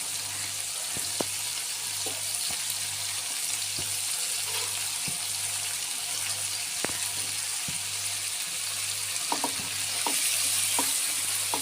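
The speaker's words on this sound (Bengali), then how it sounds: "এখন আমি একটু নাড়াচাড়া করে নিচ্ছি" Figs frying in a cooked spice masala hiss steadily in a pan while a spoon stirs them, with scattered clicks and knocks against the vessel, no speech.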